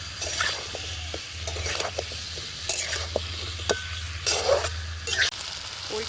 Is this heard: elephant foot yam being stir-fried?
yes